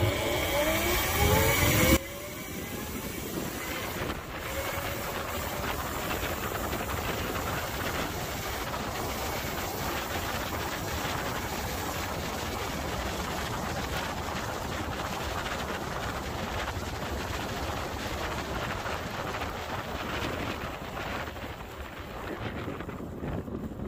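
An electric supermoto motorcycle riding along, its faint motor whine buried under steady, loud wind buffeting the microphone the whole way, after a brief louder burst at the start.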